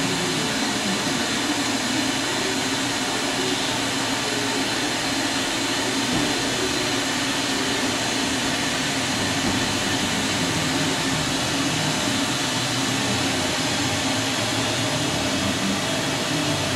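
Doosan DNM-400 vertical machining center with a steady, loud broadband mechanical whir and hiss running continuously without pause, no talking.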